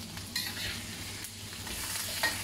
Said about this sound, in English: I'm gonna toss in the beef and the fish cake into the flaming hot oil.